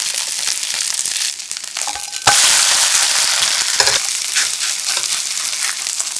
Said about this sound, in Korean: 기름이 부족하면 더하고 충분히 구워서 맛있는 색깔을 내줍니다.